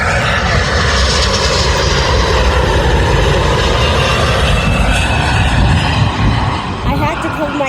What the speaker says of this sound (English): There is that, there's a plane.